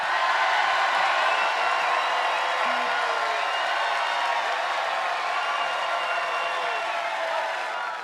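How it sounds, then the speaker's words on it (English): A large audience at a Friday night live show breaks into sustained, loud applause mixed with cheers and whoops, a dense, steady roar of clapping that holds for several seconds. "one time, just as loud as you can for a long, long time, we'll get a great big applause"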